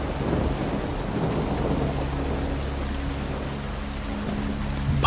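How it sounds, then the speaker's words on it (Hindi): Drizzling rain falls at night by a graveyard, a dense steady hiss under low rolling thunder rumbling continuously, with a slight burst near the end and no voices. "बादल हैं, बूंदाबांदी हो रही है और भी डरावना माहौल बन गया है।"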